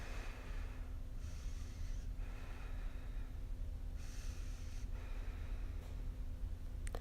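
A voice imitates someone's heavy breathing, with slow, drawn-out breaths repeating a few times at a steady pace, faint and close over a low hum.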